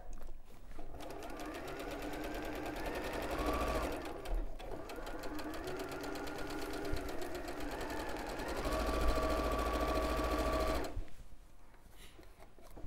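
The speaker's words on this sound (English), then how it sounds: "sewing along there, 1/4 inch again" A sewing machine runs a quarter-inch seam with a loud, continuous whirring hum that holds for about ten seconds, speeds up slightly partway through, then cuts off.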